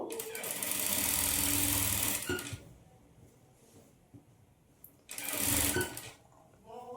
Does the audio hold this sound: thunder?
no